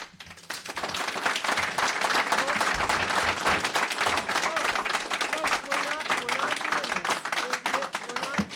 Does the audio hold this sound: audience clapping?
yes